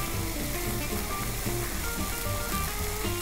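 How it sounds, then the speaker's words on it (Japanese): Ginkgo nuts simmer down in salted water in a pan, giving a steady, dense bubbling sizzle that stays even and close throughout, with no talking. "時々揺すってあげながら水分がなくなるまで煮詰めていきます。"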